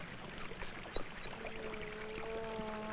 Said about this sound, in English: Here, the river current is slow.